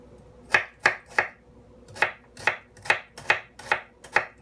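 A tomato is chopped on a board with a Japanese single-bevel knife, giving nine crisp, evenly spaced knocks in two quick runs, close and clear over a quiet room.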